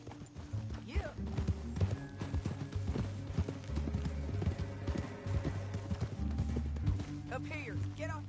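Video-game horse hooves clip-clop steadily on hard ground, a fast rhythmic trot heard up close, with a brief whinny near the end. Low game music and faint talking run underneath.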